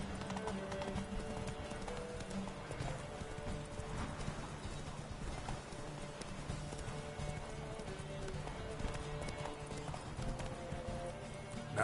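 Horses gallop in The Witcher III: Wild Hunt, a steady, continuous run of hoof clip-clops in a video game with no riders, close and even throughout, with no talk.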